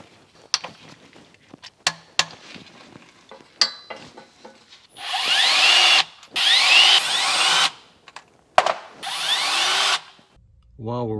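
A power tool on a Land Rover LR3 with a 6HP26 transmission whirs in several sustained bursts while removing the rear transmission pan bolts, between clanks and handling noises nearby.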